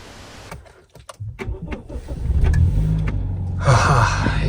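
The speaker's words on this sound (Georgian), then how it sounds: "გათბეს მანქანა და დავიძრები" A car engine idles while warming up at a remote spot in a forest, a steady close rumble that swells slightly near the end, preceded by clicks and rustling handling noises.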